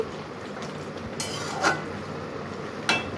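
Bottle gourd and pangas fish curry is stirred in a pot, with a faint simmering hiss beneath a few sharp scrapes and clinks of a spoon against the metal, close by and without speech.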